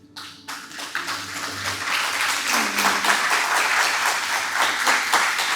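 A church congregation breaks into applause, with a few voices at the start and then a rising wash of many hands clapping that holds steady and full at close range.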